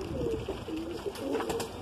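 A Sartaj pigeon of the Madrasi breed coos softly close by, a few low throaty murmurs over a short moment with faint background noise.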